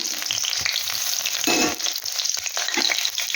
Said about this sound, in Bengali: এখানে আমি কিছু দেখো রসুন কোয়া দিয়ে দিলাম, বেশ কিছু রসুন আমি এখানে দিয়ে দিচ্ছি।